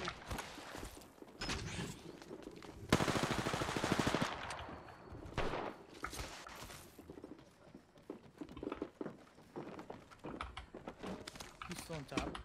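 Apex Legends gunfire crackles in rapid automatic bursts, loudest in a dense stretch around the third second, then recurring in scattered shots beneath excited voices talking throughout.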